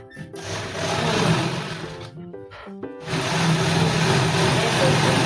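A sewing machine stitches a 40-inch salwar in steady whirring runs. The motor hums close and loud, stops briefly in the middle with a few short bursts of stitching, then resumes. Someone may be talking faintly underneath.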